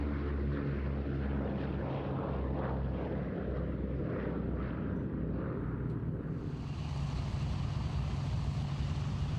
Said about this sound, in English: Sally B flies in the colours of Memphis Belle, the first B-17 to complete 25 missions over Europe.